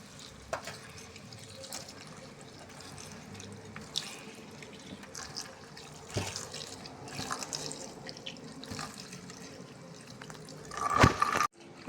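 Water runs from a tap onto mushrooms in a bowl, a soft continuous trickle with a few drips and clinks, rising to a brief louder splash near the end.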